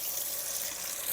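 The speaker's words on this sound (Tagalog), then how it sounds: "Hugasin natin to dito para hindi sayang ang tubig." Tap water runs steadily over vegetables, okra among them, in a home kitchen sink, a continuous close hiss of splashing water with no voices.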